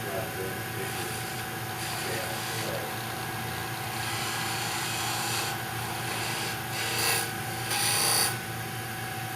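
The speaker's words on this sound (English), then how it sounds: "I'm basically cutting with the very tip of the skew chisel, and I'm going right down this side there, and I'm cutting right down into that groove" A skew chisel cuts wood on a lathe with its very tip, working down one side and into a groove. The result is a steady rasping scrape over the lathe's hum, with a couple of brighter bursts near the end.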